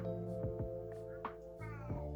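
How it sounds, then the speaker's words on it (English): A cat meows faintly several times to be let in, short rising cries under a steady low hum of indoor noise. "And my cat wants in"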